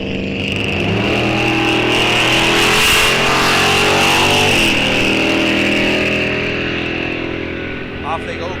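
Drag race cars launching at Rock Falls Raceway, with a Corvette in the right lane, engines roaring hard and close as they leave the line and then fading away, under an announcer's continuous commentary.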